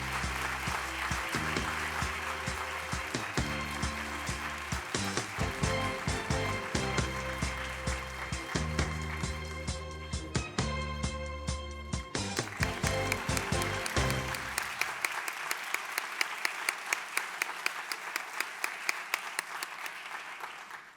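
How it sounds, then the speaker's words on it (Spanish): Sustained audience applause at a closing ceremony honoring language and literature teachers at a book fair, a dense, even clatter of many hands that runs the whole stretch and thins slightly in its last seconds. "Un aplauso para ella"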